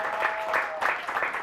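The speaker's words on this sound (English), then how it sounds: "can we have another round of applause for her?" Brief applause from a small crowd at a spoken-word and music show, a soft continuous patter of clapping with a faint tone and some voices underneath.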